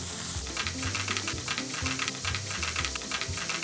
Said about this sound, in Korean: 된장을 넣고 이렇게 볶아줘요.